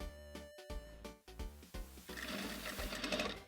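A sewing machine hems a pair of jeans in short, rhythmic stitching runs with brief pauses between them, then settles into a steadier hum toward the end.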